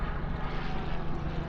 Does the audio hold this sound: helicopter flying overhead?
yes